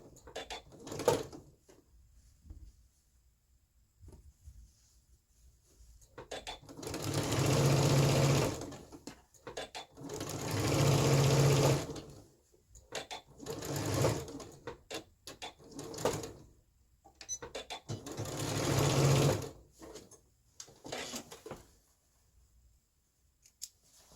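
A sewing machine stitches culottes in bursts of fast whirring, stopping and starting several times to backstitch, with quiet handling clicks and pauses between runs and no talking.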